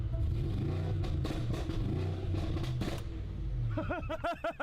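A Mercedes-AMG car fitted with downpipes runs in its loud exhaust mode, giving a deep, continuous rumble with a few sharp pops, and ends in rising revs near the close.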